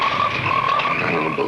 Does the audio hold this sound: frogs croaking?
yes